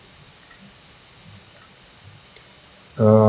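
Two light mouse clicks on a computer while checking a freight shipment-tracking website, soft and close, spaced about a second apart, followed by a sudden loud tonal burst at the end.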